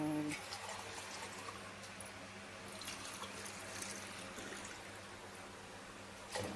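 Lemon drink is poured back and forth between steel tumblers, giving a continuous splashing, trickling stream of liquid at close range. A faint background hum and a brief clatter come near the end.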